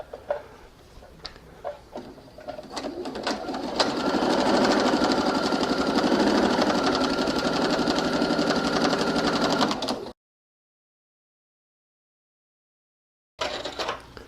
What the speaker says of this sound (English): now that I've sewn down along this tube